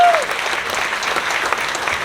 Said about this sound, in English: Give them another round of applause for coming up.